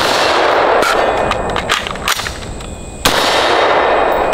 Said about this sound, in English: pull the trigger, hit the target, reload, engage the target one more time